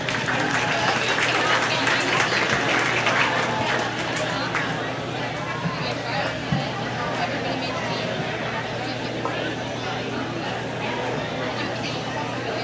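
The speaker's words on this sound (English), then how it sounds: "Please pay him off with a nice round of applause here if you guys would." Applause rises from a crowd at a county fair market hog show, a dense, continuous clapping that holds steady and then thins slightly, with crowd murmur underneath.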